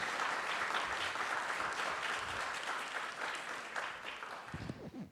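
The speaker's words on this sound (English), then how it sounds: "Please join me in applauding." Sustained applause from a conference session audience, steady and dense for most of the stretch before thinning toward the end.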